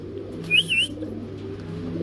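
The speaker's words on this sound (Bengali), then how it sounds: "মিঠু, একটু ডাকো তো।" A pet bird at a bird seller's, among lovebirds, Java sparrows and sun conures, gives one brief, clear whistled call over a low, steady background hum.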